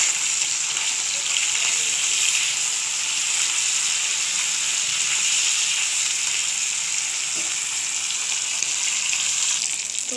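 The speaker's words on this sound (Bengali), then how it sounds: "তো বাটা মাছটা খুব ভালোভাবে ভাজতে হবে" Bata fish frying in a pan, a steady, even hiss of hot oil sizzling continuously at moderate level, with a faint knock or two and no talking.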